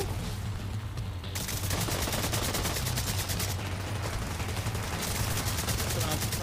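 Sustained automatic gunfire in a Division 2 player-versus-player match: rapid, steady bursts that keep rattling without a break, loud and dense, layered over a low rumbling backdrop.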